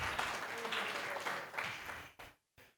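A church congregation claps in a steady, fairly loud burst of applause that cuts off abruptly near the end, followed by a brief resumption.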